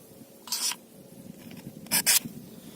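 A survival knife drawn twice through the small sharpener built into its sheath, giving two short, dry rasping scrapes about a second and a half apart against a quiet background.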